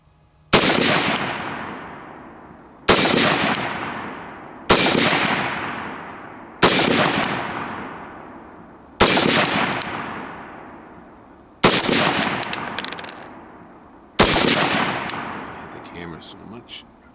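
Seven loud, close rifle shots of M855 rounds fired during a function test. The shots are evenly spaced about two seconds apart, each a sharp crack followed by a long, decaying echo.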